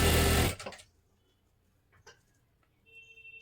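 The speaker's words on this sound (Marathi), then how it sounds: "इकडची बाजू थोडीशी घडी करून घ्या हे अशा पद्धतीने बघू शकता आणि एक शिलाई मारून घ्या" A sewing machine stitching a blouse gives a brief, loud whirring burst at the start, then falls quiet apart from a few faint clicks and ticks.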